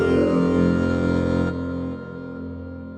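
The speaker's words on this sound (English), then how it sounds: "This is the sound of the Roland Jupiter X vocoder." A Roland Jupiter X synthesizer's vocoder holds a rich, buzzy voiced tone with a dense stack of harmonics, heard alone; it drops in level halfway through and then fades away.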